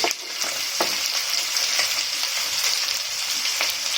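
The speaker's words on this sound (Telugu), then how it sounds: "కొంచెం ఉల్లిపాయ కలర్ వచ్చే వరకు ఫ్రై చేసుకోవాలి" Thinly sliced onions and green chillies frying in a pan for prawn biryani, giving a dense, continuous bright sizzle with faint clicks of stirring, close up and with no talking.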